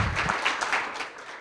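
A crowd applauds for student athletes, coaches and parents at a high school college athletic signing ceremony in Bayonne. The clapping is loud and dense throughout the short stretch.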